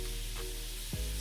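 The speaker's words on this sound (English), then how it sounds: "So when I finish stir frying the shrimp, we're going to take it out." Shrimp stir-frying in a pot for a fish and shrimp sauce served with rice, giving a steady close sizzle and crackle with a brief stirring scrape near the end.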